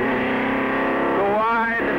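A 1960s race car engine running hard onboard at the Nürburgring in 1961, a loud steady drone that rises in pitch near the end as the driver gets on the gas.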